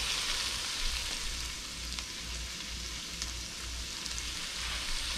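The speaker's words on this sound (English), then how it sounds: "Got a quick saute on that." Tuna and peppers sauté in a hot pan for a quick stir-fry, giving a steady, close sizzle with a broad hiss that runs throughout with no talking.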